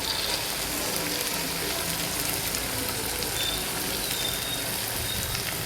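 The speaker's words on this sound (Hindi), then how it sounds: "तो ये हमारा कीमा भुन गया।" Minced meat keema fries in a pan with beans, making a loud, steady, unbroken sizzle and crackle from start to finish, with no voices.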